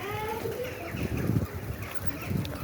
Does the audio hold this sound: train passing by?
no